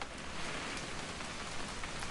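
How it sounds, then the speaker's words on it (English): Steady rain from the video game What Remains of Edith Finch, a dense continuous hiss with no talk over it. "It's gonna rain the whole weekend, isn't it?"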